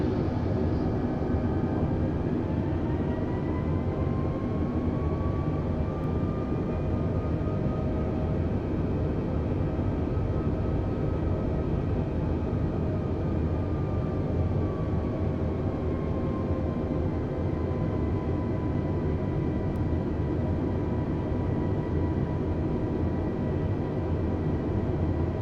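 Simulated airliner on landing approach with flaps full in Microsoft Flight Simulator, flying Detroit to Minneapolis: a constant, dense engine and wind roar with faint slowly gliding tones, unbroken for the whole stretch with no talking.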